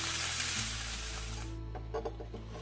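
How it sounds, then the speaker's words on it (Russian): Cabbage pie filling frying in a pan, a bright hiss that drops away halfway through, followed by a few soft stirring scrapes and knocks over a low steady hum, with no talk. "Перемешиваем, слегка убавляем нагрев и под крышкой протушим до нужной мягкости."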